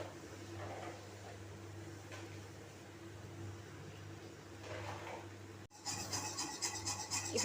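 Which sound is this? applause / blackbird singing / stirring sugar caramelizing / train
stirring sugar caramelizing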